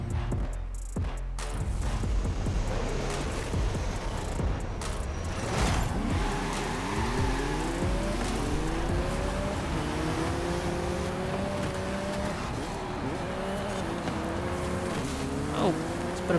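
A 2023 McLaren Artura supercar races in Forza Horizon 5, its engine note rising and falling through repeated upshifts and accelerations, loud and close, with someone talking over it.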